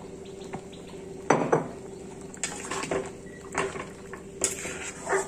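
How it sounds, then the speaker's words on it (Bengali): Egg rezala tarka with garam masala and sauce simmers in a pan while a utensil stirs and scrapes, giving repeated clinks and knocks against the pan over a low steady kitchen background, fairly close. "এবার নাড়িয়ে চাড়িয়ে আর একটু ফুটিয়ে নিয়ে নামিয়ে নেব।"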